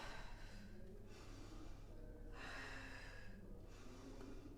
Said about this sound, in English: Actually, I'm doing a breath out here. It's puff, puff, isn't it?